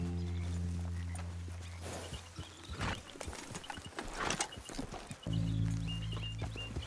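Horse hooves in the Red Dead Redemption 2 video game clip-clop at a steady trot, close and clear, set against a low game music bed with no talking.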